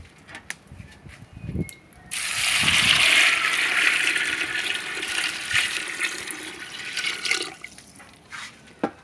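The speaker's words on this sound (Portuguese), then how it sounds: "Agora vamos colocar a água." Water pours in a steady rushing stream into a pot of beans on a rustic wood-burning stove, loud and close for several seconds before tapering to trickles and drips.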